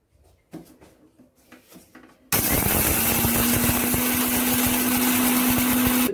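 A kitchen mixer grinder kicks on abruptly and grinds dry mustard seeds, black pepper and fenugreek with a loud, steady whirring roar after a few soft clinks of ingredients being added.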